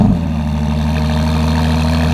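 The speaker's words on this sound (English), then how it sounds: "So we've put our full exhaust system on it. Titanium, can't wait for you guys to hear it." Ferrari 296 GTB fitted with a titanium full exhaust system, idling with a steady, deep low rumble held close and loud throughout, with no voices over it.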